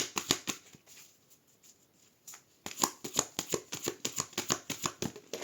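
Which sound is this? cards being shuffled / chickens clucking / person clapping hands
cards being shuffled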